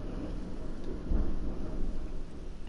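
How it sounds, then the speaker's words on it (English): A thunderstorm rumbles outside with low, continuous thunder and steady rain, a deep swell in the middle, and no talking. "Man, the storm's really picking up."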